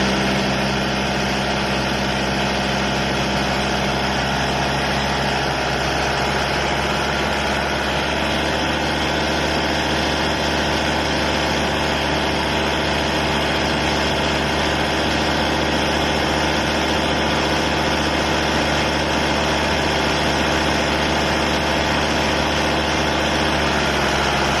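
A car engine idling at normal working temperature, a steady close-up droning hum with a constant low rumble, unchanging throughout with no talking.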